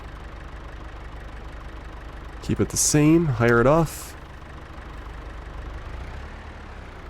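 Tractor engine in Farming Simulator 25 idling as a steady low rumble throughout, with a short burst of speech briefly rising above it in the middle.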